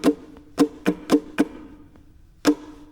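Ukulele strummed with all downstrokes in a short rhythmic pattern, six bright, percussive strums in an uneven pattern with a gap before the last, close and clear with no talking.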